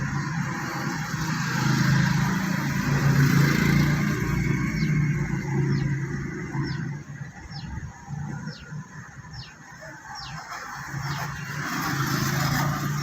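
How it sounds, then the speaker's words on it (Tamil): A car engine idling steadily while a learner driver eases the clutch, a low continuous hum with slight dips in level, heard alone with faint high chirps in the background. "இப்போது என்ஜினோட சவுண்டை நல்லா காதில் வாங்க."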